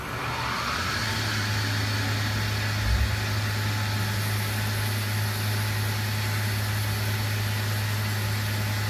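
Spindle of a 2005 Fadal VMC6030HT CNC vertical mill spinning up to about 6,000 RPM, a steady mechanical hum and whine that rises and then holds constant, loud and close.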